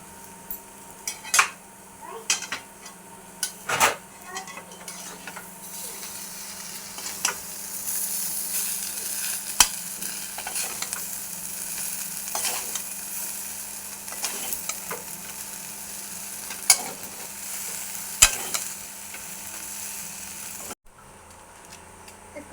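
Chicken meat sizzling and frying in a pan for chowmein, with steady hiss and intermittent clinks and scrapes of a utensil stirring against the pan, close and moderately loud, no talking.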